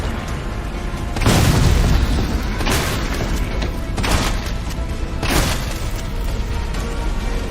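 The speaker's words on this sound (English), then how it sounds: "destroy that fuel tank on his back, causing Nemesis to be visibly damaged from the explosion" A deep booming blast from Nemesis's fuel tank exploding in the Resident Evil 3 Remake game, a heavy low thump followed by rumbling debris, with further loud bursts and crashes breaking out over a continuous roar.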